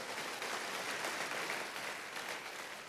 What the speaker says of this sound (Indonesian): Ayo tepuk tangannya yang paling meriah buat Tuhan kita.